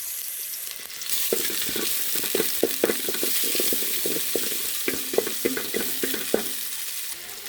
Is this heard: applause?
no